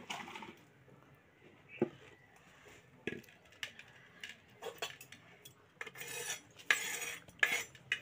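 Spinach goes into a hot pan on a home stove, with scattered metal clinks and scrapes of a spoon against the pan, some sharp and close, others soft, and no talk.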